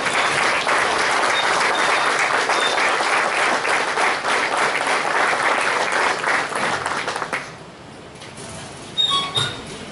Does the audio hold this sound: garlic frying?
no